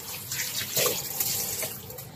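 Meat rinsed under a running kitchen tap to wash off grease, a steady close splash of water over the pieces with slight surges as they are turned, no talking.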